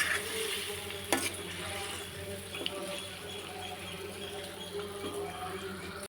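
Mutton and potato curry stirred in a pan, a soft sizzle under occasional sharp clinks of the spoon against the metal, close and steady.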